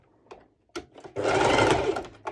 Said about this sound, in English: I'm stitching until here, and I do a few back and forth stitches.